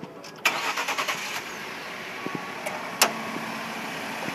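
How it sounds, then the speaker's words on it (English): A 2012 Ford F-150 XLT SuperCrew pickup cranks briefly, catches with a sharp start, then settles into a quiet, steady idle, heard alone with a few small clicks. "I'm gonna go ahead and start it up for you."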